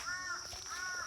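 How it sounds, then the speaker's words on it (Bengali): A crow caws twice at dawn, two short harsh calls heard at moderate distance over a steady background hum, with no talk. "পিছনে কাক ডাকতেছে"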